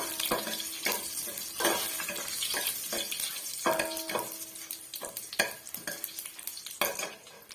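Dried red chilies are stirred and roasted in a pan for rasam, with a spoon scraping and tapping the pan steadily over a soft, low sizzle.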